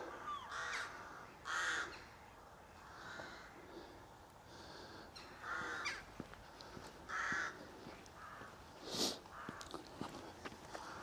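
Several crows and rooks caw in short bursts near their nests, scattered across the scene at moderate distance, with quiet rustling between calls.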